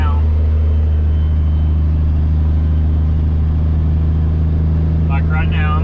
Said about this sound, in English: Like right now, I'm going to give it a little bit of throttle.